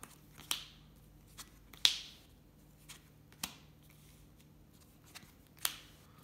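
A deck of Yu-Gi-Oh cards is shuffled and cut, giving a handful of sharp, close, crisp snaps and flicks spaced irregularly over quiet background.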